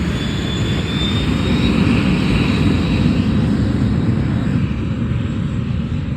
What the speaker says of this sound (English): Okay, watch the plane. It's gonna take off.